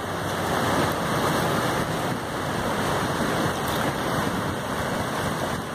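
Roaring whitewater at Coffee Pot Rapid on the Rogue River, a dense, steady rush of water pouring through the run-out and over a waterfall, loud and close with no break.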